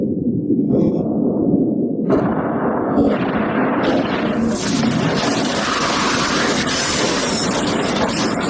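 A yacht blown up by explosives at sea, a sustained loud roaring blast with rumbling debris that builds in stages and keeps going at full strength without any talk.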